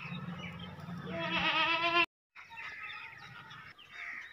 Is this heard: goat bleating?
yes